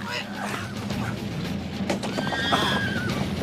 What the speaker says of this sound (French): Il fallait monter sur le cheval, imbécile.